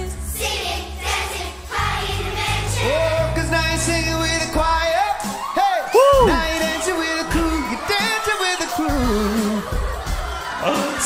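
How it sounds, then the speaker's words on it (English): Schoolchildren in a choir reacting with surprise, a crowd of excited whoops, yells and high screams rising and falling under and around voices in a lively, echoing room. "I heard a scream, by the way."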